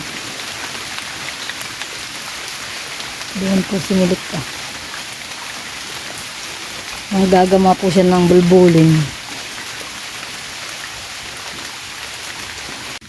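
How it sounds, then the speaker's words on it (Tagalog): Rain patters steadily throughout, a constant hiss of drops, while a person speaks twice briefly over it. "Ulan po dito."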